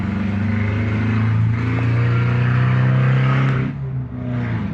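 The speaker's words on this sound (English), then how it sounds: "Let that car go through. It's a little noisy." A car engine hums loudly nearby as the vehicle drives past, its steady drone dropping briefly before another engine sound rises.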